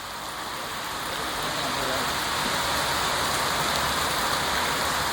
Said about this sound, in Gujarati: જો આ વરસાદ પડે હ મસ્ત ફર્સ્ટ ક્લાસ.